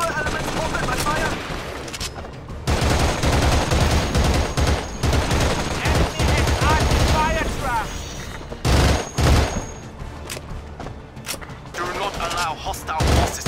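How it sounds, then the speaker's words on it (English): Dense gunfire in the PS2 game Battlefield 2: Modern Combat: rapid automatic bursts and single shots crackle almost nonstop, with louder blasts toward the end and radio-style voices talking underneath. "Enemy fire concentrating on our area."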